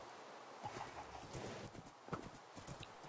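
A horse clip-clopping in Minecraft, with soft, faint hoofbeats in an uneven rhythm over a low background hiss.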